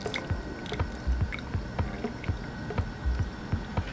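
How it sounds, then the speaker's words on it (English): Lemons squeezed by hand into a small glass jar, giving soft wet squishes and drips that repeat every half second or so, close and fairly quiet with no talking. "I squeezed the lemons inside my little jar, my little glass thing"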